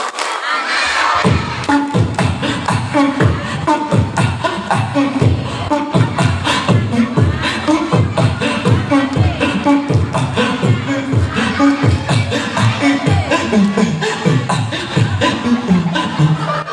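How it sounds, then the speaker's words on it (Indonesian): A large group of children chant and clap in a loud, fast, rhythmic pattern at an Eid al-Adha religious gathering, the beats repeating evenly and filling the whole stretch. "Coba tepuk anak solih"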